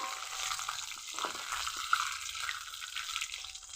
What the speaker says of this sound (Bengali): মাছগুলো এরকম হালকা করে ভেজে নিতে হবে